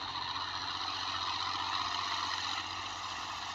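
An old Massey 240 tractor engine runs steadily and loudly up close, a constant rumbling drone with no pauses and no voices.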